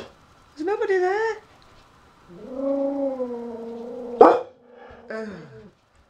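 A dog barks and yelps in a few separate, drawn-out bursts, close and loud, with short pauses between them and no talking.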